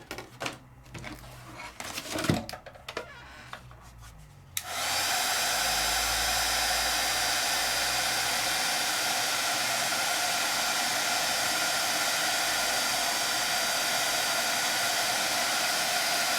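A craft heat tool switches on after a few quiet seconds of handling noise and blows a steady, loud whooshing roar to melt embossing powder, continuing unbroken to the end.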